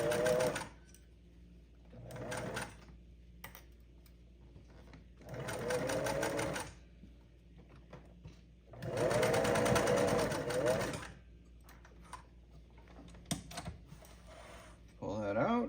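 Sewing machine stitching a hiking stuff sack in several short bursts of rapid mechanical whirring, with quiet pauses and soft handling noises between runs and a person speaking briefly.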